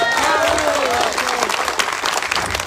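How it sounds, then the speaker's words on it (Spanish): Crowd applauding at a political party event as newly elected officers take their posts, loud dense clapping with cheers and voices mixed in, continuous throughout. "Un fuerte aplauso, por favor."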